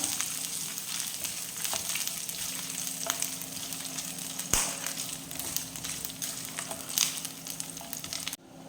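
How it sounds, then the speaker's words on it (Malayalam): Coconut pieces sauté in a pan for ada pradhaman, a close, steady frying sizzle with occasional sharp crackles and stirring scrapes, cutting off abruptly at the end. "ആദ്യം നമുക്ക് തേങ്ങാക്കൊത്ത് വഴറ്റിയെടുക്കാം"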